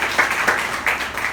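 Schoolchildren clapping in a classroom at a composite school, a short burst of several claps in quick rhythm at moderate loudness, no talk over it.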